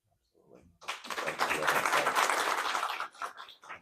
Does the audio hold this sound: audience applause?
yes